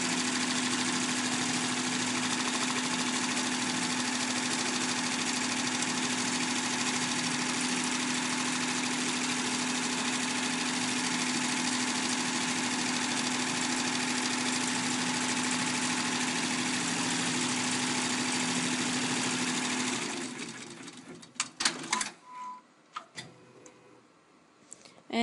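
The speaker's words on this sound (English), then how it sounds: "we'll go ahead and press start, and now it'll do the tack down stitch" An embroidery machine stitches the tack-down outline of a ladybug appliqué, a steady, fast mechanical whir with a faint ticking rhythm that runs alone and unbroken for about twenty seconds before stopping abruptly, leaving a few quieter clicks.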